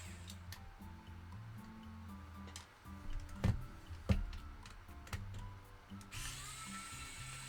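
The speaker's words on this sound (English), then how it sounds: "I remove the 5 screws to get the top cover off and get access to the buttons." Screws are backed out of the top cover of an Xbox wireless controller, with small close ratcheting ticks and clicks and a couple of louder knocks from handling.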